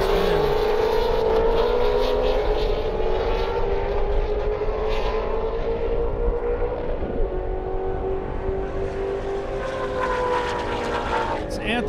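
Ford GT350R race car engine on a drag-style airstrip track, a loud sustained engine roar with rising and falling pitch as the car passes, with faint commentary underneath.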